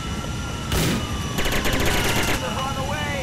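An FN P90 submachine gun firing in the video game GTA IV: a short burst, then a longer run of rapid, evenly spaced shots, heard under someone talking.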